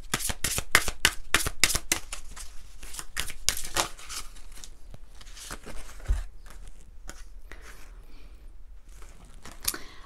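Oracle spirituality cards are shuffled by hand in a rapid run of crisp riffling slaps and flicks, close and fairly loud, with brief pauses between bursts and no talking.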